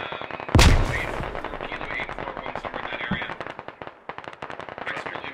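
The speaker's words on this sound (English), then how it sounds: "At least the Russians are shooting over them." Sustained automatic gunfire from Russian troops in the Squad military shooter game, rapid bursts of rifle and machine gun fire overlapping with distant explosions, one loud nearby blast at the start, continuous and dense throughout.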